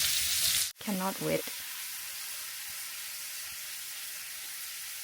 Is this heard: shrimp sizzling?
yes